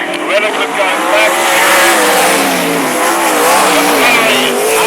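Sprint cars race at Mac's Speedway, with loud, continuous engine roar and wavering revving pitches from several cars at once, sustained throughout under a commentator's rapid voice.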